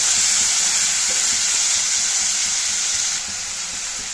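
Chopped tomatoes and onions sizzle loudly and continuously in hot oil, a bright crackling hiss that drops a little in level near the end.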